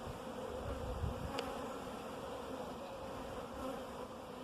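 Honey bees drone and buzz at their hive in a soft, continuous hum, many insects together at close range with no voices.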